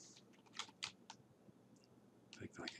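Typing on a computer keyboard comes in short bursts of faint, close clicks and key taps, pausing in the middle and resuming near the end.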